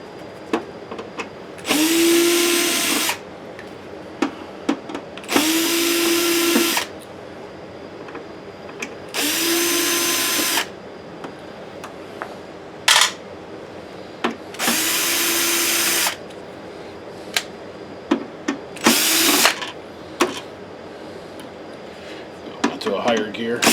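A power drill removes screws from a JVC DLA-RS40 projector during a lamp ballast repair, with five loud whirring bursts of about a second each, separated by pauses and small clicks.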